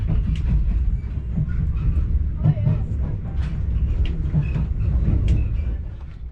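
An HST passenger train pulls away from Exeter St David's, heard from inside a carriage as a steady low rumble of wheels and running gear with faint clicks over rail joints throughout.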